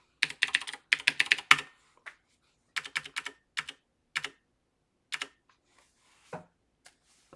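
Keys clatter on a computer keyboard as someone types out a sudo adduser command for a new user, quick bursts of close, crisp clicks broken by short pauses.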